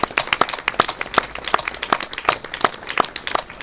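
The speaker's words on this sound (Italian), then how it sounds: "Facciamogli un applauso, dai." Live audience at a book festival talk in Sciacca applauding, a steady patter of many hands clapping close by, with no voices over it.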